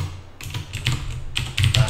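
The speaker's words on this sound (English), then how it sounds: "Just got this new keyboard. It's got the clicky Cherry MX blue keys on it there." Typing on a mechanical keyboard with clicky Cherry MX Blue switches: close, crisp clacking keystrokes arrive in short irregular bursts with brief pauses between them.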